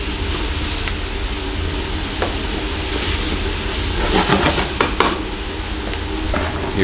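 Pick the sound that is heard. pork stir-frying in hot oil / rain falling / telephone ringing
pork stir-frying in hot oil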